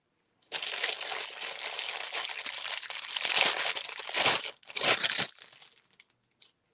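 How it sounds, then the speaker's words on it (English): Plastic packaging or wrapping material is crinkled and handled close up while crafting with new square coaster molds, a continuous crackling rustle with a few louder scrunching bursts and a short pause, then quiet. "Sorry about the crinkling."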